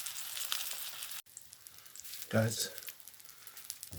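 A thick piece of fish fries slowly in a pan, a soft, low sizzle running under a person's voice, with a brief louder burst of crackling midway.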